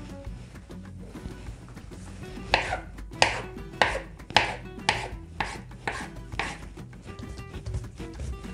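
A knife cuts a sheet of dough into 40 to 50 gram pieces for an Uzbek khanum dish. Roughly nine crisp, evenly spaced chops ring out close by, with no talking, over a soft kitchen background.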